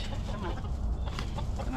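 Hens cluck and squawk in agitation inside a hen house after a rooster joins the flock, a dense, continuous close chorus with voices talking over it.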